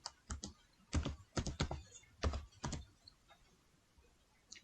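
Quiet close-up clicks of keys being typed on a computer keyboard, in a short irregular burst of a few quick strokes with gaps between them.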